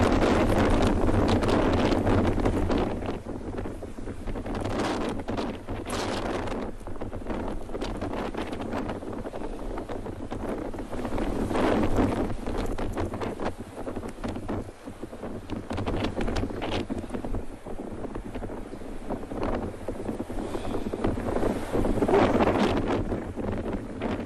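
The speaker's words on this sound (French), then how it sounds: "On lutte contre le vent là. Qui souffle très fort." Heavy wind from Tropical Storm Ernesto in Guadeloupe batters the microphone continuously in loud, surging gusts, with no talking heard.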